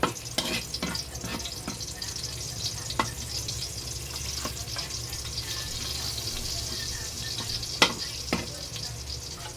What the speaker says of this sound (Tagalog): bigyan natin ng konting mantika dahil Tinipid ni Daddy. tinipid na dahil sa ham yan.